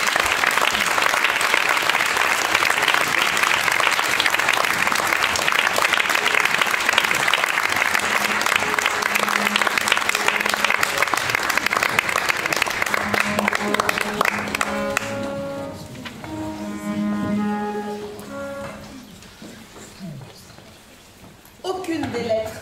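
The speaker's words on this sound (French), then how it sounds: "Sous des applaudissements chaleureux." Warm applause from a seated audience fills the first fifteen seconds as a girls' vocal ensemble takes its places, then fades into scattered clapping and murmuring voices, with a loud burst at the very end.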